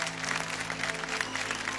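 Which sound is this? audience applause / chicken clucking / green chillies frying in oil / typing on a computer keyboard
audience applause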